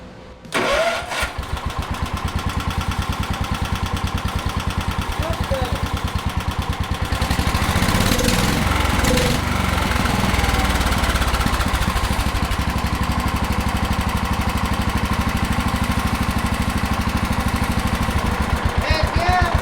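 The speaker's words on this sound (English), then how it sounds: "we got a running and driving tractor" A small Wheel Horse 314H garden tractor engine cranks and catches, then runs steadily with a rough, chugging mechanical roar that grows louder partway through, continuing without pause.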